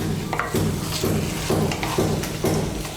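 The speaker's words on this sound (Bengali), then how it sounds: "টমেটো বাটাটাকেও মিশিয়ে নেব, মিশিয়ে নিয়ে একটু ভেজে নেব" Tomato paste with ground spices sizzling in a pan while a utensil stirs it in steady scraping strokes roughly every half second, over a constant low frying hiss.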